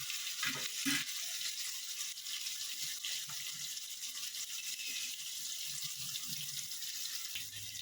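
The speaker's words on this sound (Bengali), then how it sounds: "একটু আলুটা প্রথমে ভেজে নিই" Potatoes fry in hot oil in a kitchen pan for a fish and drumstick curry, giving a steady, moderate hiss and sizzle throughout with a few clatters near the start.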